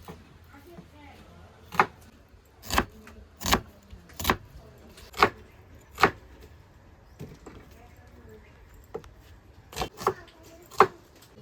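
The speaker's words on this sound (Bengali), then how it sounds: "আগে পেঁয়াজটা একটু কেটে নিই" A knife chops onions into large pieces on a cutting board while preparing mutton curry: about a dozen sharp, quiet knocks at uneven intervals over a faint room hum.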